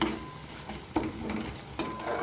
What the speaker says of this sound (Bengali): এইভাবে ঢাকা দিয়ে দিয়ে নেড়ে চেড়ে ভেজে নিতে হবে।